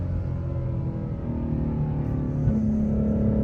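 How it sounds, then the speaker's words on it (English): A 1200HP Ford Mustang GT500, nicknamed the Hulk, roars close and loud under hard acceleration on a wet road, its engine note climbing and stepping through gear changes. "she sounds good, especially when she upshifts"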